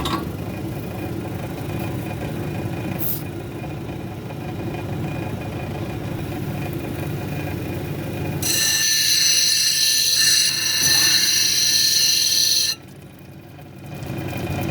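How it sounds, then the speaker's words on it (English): A dendritic opal cabochon is ground on a 220 grit wheel, giving a steady mechanical whir and hum that switches partway through into a louder, brighter high grinding whine, then cuts back to the quieter running sound near the end, with no talk. "So let's start grinding."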